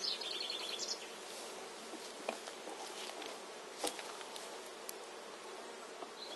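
A steady swarm of honeybees hums as they pour out of a hive set aside during transfer into a larger hive, close and continuous, with a few faint bird chirps in the background.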